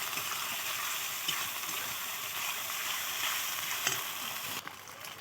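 Ginger garlic paste sizzles and fries in a hot pan for a chicken curry, a steady bright hiss with occasional stirring scrapes, close and continuous before cutting off near the end.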